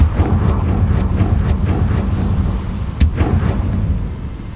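The Confringo explosive spell in Hogwarts Legacy sets off a rumbling, booming barrage of blasts with a few sharper cracks, one standing out near the end.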